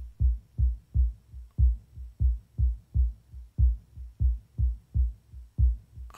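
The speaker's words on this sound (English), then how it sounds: "This is really a bass, a sub bass." A deep sub-bass tone pulses in a steady, even rhythm of low throbbing thumps, about two per second, with nothing else in the mix.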